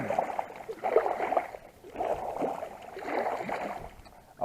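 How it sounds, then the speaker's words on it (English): Inflatable kayak with a motor moving across water, with soft rhythmic sloshing and gurgling surges in slow waves and a faint low motor hum underneath. "the inflatable kayak with the motor"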